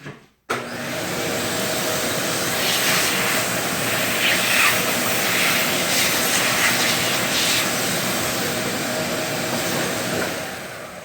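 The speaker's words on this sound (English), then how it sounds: "Vacuum that up." A vacuum cleaner runs loud and steady for about ten seconds, starting abruptly after a short pause, in a workshop where a Hsu HRSW10 subwoofer foam was being fitted with a machined jig on a motorized Palmgren 10-inch rotary table.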